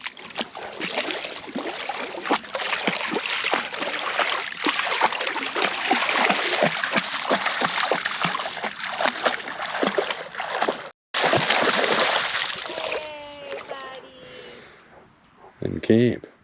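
People and a dog splash while swimming in a shallow stretch of the Pentecost River on the Gibb River Road, with frequent close sloshing and water noise under people talking.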